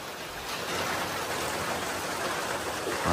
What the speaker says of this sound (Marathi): पाऊस कसला जोरात आहे तो एकदम.